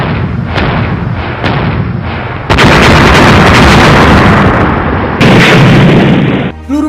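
Cannon fire booms through an animated battle over a fortress, with heavy blasts and rumbling bursts layered loud and close over a dense din of combat.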